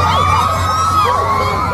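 A loud crowd of Filipino fans screaming and cheering continuously at a live concert, a dense wall of high-pitched shrieks with no gaps.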